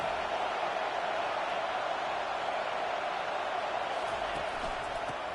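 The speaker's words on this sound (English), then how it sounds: "Listen to the crowd energy here in the early going." Stadium crowd in the College Football 25 video game produces a steady, dense roar, a constant wash of cheering noise that holds evenly throughout.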